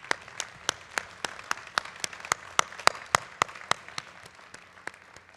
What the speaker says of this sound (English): Let's give these supporters a big round of applause.